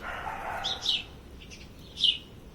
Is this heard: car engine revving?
no